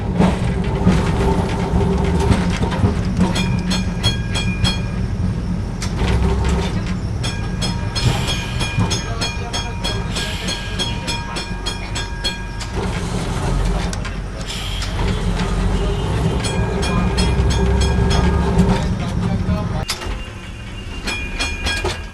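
A Kolkata tram runs along its street tracks, a steady loud rumble with metallic rattles and clicks over the rails, city traffic noise mixed in, continuing for most of the stretch before easing slightly near the end.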